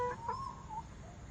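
A chicken gives a short series of soft clucks, quiet and a little distant, over a low background hum.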